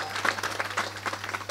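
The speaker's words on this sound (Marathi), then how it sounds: "किशोरजी बाबा जोरदार टाळी वाजवा आमच्या महाराजांसाठी एकदा" An audience at a Marathi kirtan performance claps together in a brief burst of dense applause, moderately loud, over a steady electrical hum.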